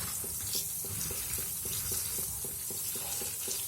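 Taro leaves being rinsed under a running kitchen tap, a steady close wash of water with faint splashing and soft handling noises, no voices.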